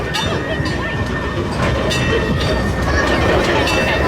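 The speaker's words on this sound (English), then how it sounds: "Just thought we'd come for a little train ride round." A small LEGOLAND Windsor train rolls along rails with a steady rumble and rhythmic clacking, heard from on board, with voices faintly mixed in.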